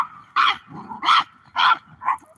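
Dogs bark in four loud, evenly spaced bursts at close range, with a low continuous growl running underneath between the barks.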